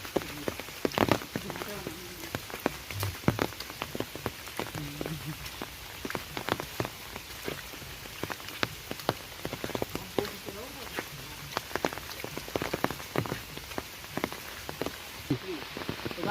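Rain falls steadily outdoors near a river on a slippery path, with a dense patter of drops and sharp splashes close by, alongside faint background noise.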